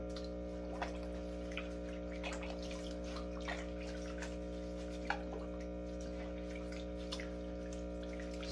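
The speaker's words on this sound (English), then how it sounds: "now I'm just going to take these filters out and rinse those out" Aquaponic filters are rinsed in dechlorinated water, with soft sloshing and scattered splashes over a steady low pump hum.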